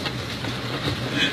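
A passenger train in Russia standing at a station: a low, steady rumble with some mechanical hum and faint background voices.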